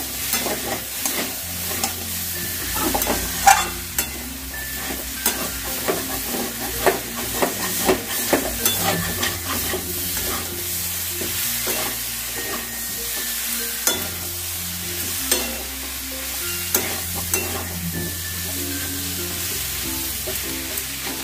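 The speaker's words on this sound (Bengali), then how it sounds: "2 মিনিটের মতন আমি এই আলু ফুলকপিটা দিয়ে নাড়াচাড়া করব" Potato and cauliflower frying with spices in a pan on medium-low heat, stirred steadily for a couple of minutes: a continuous loud sizzle with repeated scraping and clatter of the spoon against the pan, no voices.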